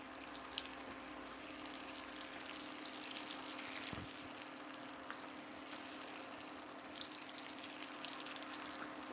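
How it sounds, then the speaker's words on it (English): Potatoes crisping in a hot pan on a breakfast-burrito stovetop, a quiet, continuous sizzle with occasional louder bursts and a soft clatter midway, heard alone without voices. "Potatoes I'm cranking up. We're going to get them crispy."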